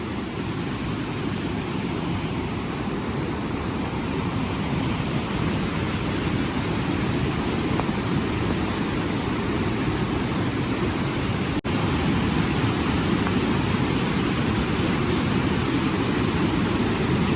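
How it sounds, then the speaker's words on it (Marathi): The Mangeli waterfall near Dodamarg sends water crashing down from a great height, producing a steady, loud, broadband roar that holds unchanged throughout. "इकडनं बघा एवढे उंचावरून खाली पाणी पडतं बघा"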